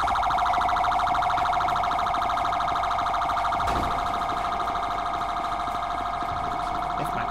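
A loud, continuous wailing ambulance siren from the video game GTA V, close and steady throughout with a brief thump partway through.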